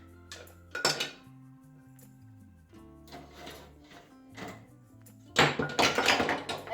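Wooden kitchen utensils being handled and shuffled in a utensil holder, with several bursts of clattering knocks and rattles of varying loudness, near and close, with a soft voice underneath at times.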